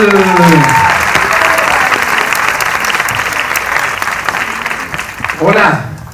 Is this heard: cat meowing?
no